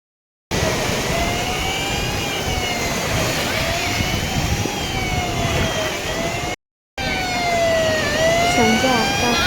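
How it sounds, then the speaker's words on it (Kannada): A lifeguard siren wails continuously at Malpe beach at sunset, its rising and falling pitch carried over a broad wash of surf and wind, with one brief break. "ಸೈರನ್ ಸೌಂಡ್ ಕೇಳಿಸ್ತಾ ಇರುತ್ತೆ ನೋಡಿ"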